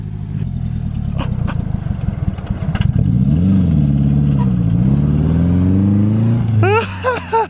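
A Nissan 240SX engine bogs down and falters, its loud rough idle wavering and sagging in pitch with a few clattering knocks before it cuts out, and a voice speaks briefly at the end.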